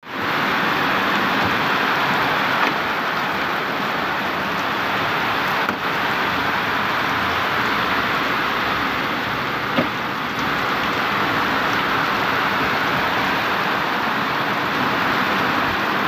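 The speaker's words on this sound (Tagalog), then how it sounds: "Ang lakas ng ulan." Heavy rain pouring onto a vehicle during a flood, a dense, loud, unbroken hiss with faint thumps.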